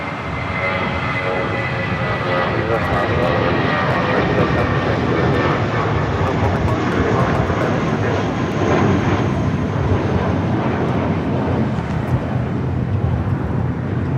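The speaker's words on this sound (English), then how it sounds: "That was Viva Flight 511 heading to Guadalajara A320." A Viva Airbus A320 jet takes off at Los Angeles International Airport bound for Guadalajara, its engines giving a loud, sustained roar with a shifting whine, lasting throughout without any voices.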